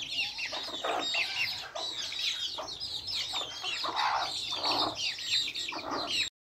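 Several chickens cluck and murmur nearby in a busy, overlapping chatter while feeding, with short bursts of louder clucks repeating through.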